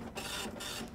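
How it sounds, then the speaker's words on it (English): A printer running in the video game Borderlands: The Pre-Sequel, a dense mechanical whir and hiss with slight pulsing, steady and fairly loud for a brief moment, no voices. "You know how to work a printer, right?"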